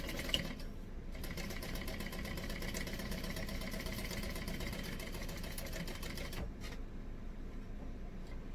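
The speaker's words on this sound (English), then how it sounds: "I'm going to take this to the machine and I'm going to sew up one side." A sewing machine stitches tote bag pieces in a continuous, fairly quiet mechanical whir with a fast rhythmic pattern, pausing briefly once.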